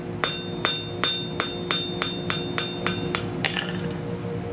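A hammer strikes a hot forged steel bar on an anvil to draw out a tapered point, about a dozen sharp ringing blows in a steady rhythm that speed up slightly near the end, close and alone.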